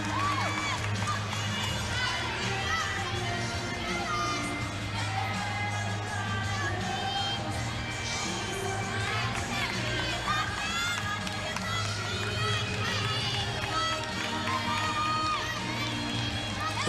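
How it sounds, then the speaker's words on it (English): A large arena crowd of nearly ten thousand at a college gymnastics meet between Florida and Georgia cheers and roars continuously, with shouts rising above a dense, sustained wall of noise while a commentator talks over it. "Look at this crowd,"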